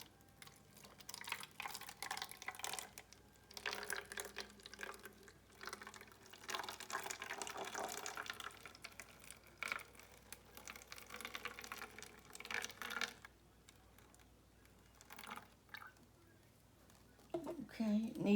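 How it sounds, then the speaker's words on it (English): Water is poured into a plastic bottle in uneven bursts and trickles, fairly quiet and close, with soft gaps between pours and a voice speaking briefly. "I'm going to pour a little more."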